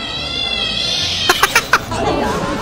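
A cat-meow phone ringtone plays as a sequence of about four short, bright, clipped chirping meows in quick succession, set against a steady hiss and a faint background voice.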